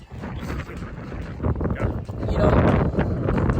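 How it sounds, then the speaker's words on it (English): Gusty wind roars across the microphone, a steady rumbling rush that swells louder toward the end, with faint voices underneath. "Very windy day out"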